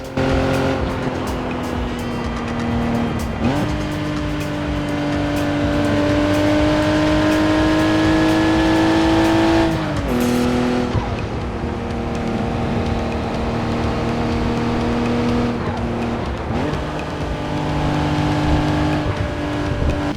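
A car engine roars loudly and continuously as the car drives at about 260 km/h through traffic at night, revving up through gear shifts with rising and dropping pitch, close and dominant throughout.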